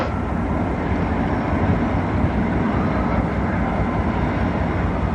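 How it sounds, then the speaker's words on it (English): A train rumbles past in a steady, loud, broadband roar that holds throughout with no clear start or end, near downtown Manhattan on the morning of September 11. "That's a train."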